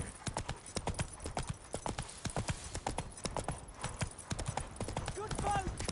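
Roach, the horse in The Witcher 3, gallops in a fast, driving rhythm of heavy hoofbeats, loud and close, with background game sounds and voices.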